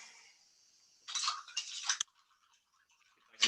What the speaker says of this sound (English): And you just stir it up.